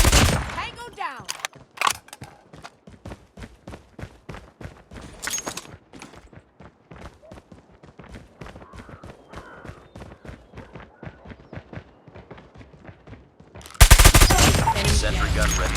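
Type 19 assault rifle fire in COD Mobile team deathmatch, a long run of rapid, evenly spaced automatic shots in bursts, fairly loud and close, ending in a dense loud blast of game noise.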